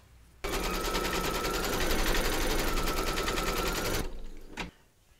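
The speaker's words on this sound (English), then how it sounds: "Pop your hoop into your machine and stitch round number 1." An embroidery machine stitches a placement outline in the hoop for a bunny project, a loud, rapid mechanical rattle that runs steadily for several seconds and then stops.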